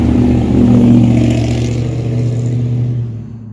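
Chevrolet Silverado with a stock 5.3 V8 and no muffler, a loud raw exhaust rumble heard close for a few seconds before easing off.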